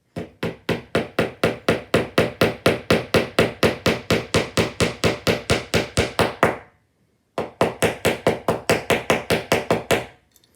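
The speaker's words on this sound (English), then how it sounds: "just tap it down into all the holes on the track" A hammer taps nails into HO scale model train track in a rapid steady run of sharp, close knocks, about five per second, then a short pause before another quicker burst.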